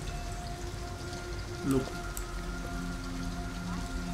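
Steady rain patters across surfaces in Detroit: Become Human, a continuous wash of drops with a faint hum beneath, while a voice briefly speaks over it.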